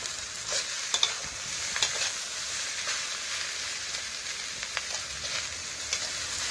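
Rice with crispy fried pork belly being stir-fried in a pan, a steady sizzling hiss broken by scraping stirs and light clinks of the spatula throughout.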